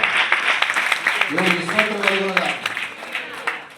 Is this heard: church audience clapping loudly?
yes